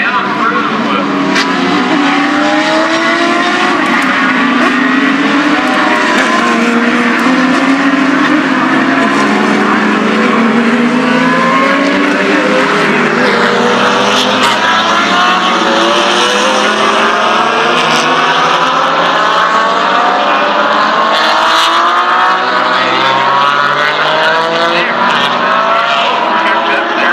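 Vintage race cars at the Mid-Ohio Sports Car Course come down the back straightaway, loud engines roaring and rising as they pass, with a commentator speaking over the din.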